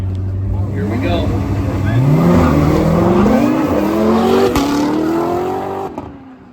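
Cars launching off the line at a spectator drag race at the Freedom Factory, a loud continuous roar with engines revving and rising in pitch as they accelerate away, fading at the end.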